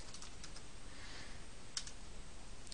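Someone types a word on a computer keyboard, producing soft, quiet key clicks in a short irregular run with one sharper tap near the end.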